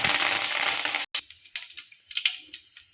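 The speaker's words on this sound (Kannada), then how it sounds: "ಈಗ ಇದಕ್ಕೆ ಸ್ವಲ್ಪ ಜೀರಿಗೆ ಹಾಕೋತಾರೆ, ಸ್ವಲ್ಪ ಸಾಸಿವೆ, ಚಟ್ಪಟನ್ನ ಸ್ವಲ್ಪ ಕೊತ್ತಂಬರಿ ಹಾಕ್ತಾರೆ" Cumin, mustard and coriander seeds frying in hot oil in a kadai: a loud, dense sizzle that cuts off abruptly, followed by scattered sharp pops and crackles of seeds spluttering, close and without talk.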